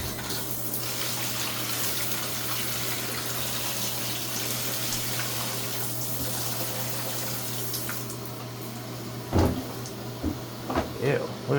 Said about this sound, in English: So we're going to pre-rinse everything, get all the main bits of dirt out